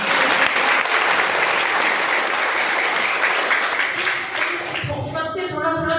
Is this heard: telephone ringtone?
no